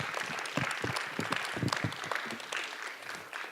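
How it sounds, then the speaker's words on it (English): Audience applause at a 518 Talks event after a speaker finishes, with dense, lively clapping from a crowd that holds steady for a few seconds before easing slightly. "Give her a round of applause."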